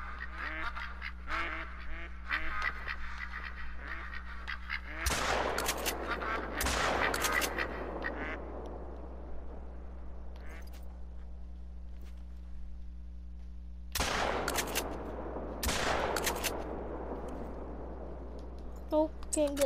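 Ducks quack and honk in a duck hunting video game while shotgun blasts ring out in a few sharp bursts, with a player talking over the game sounds.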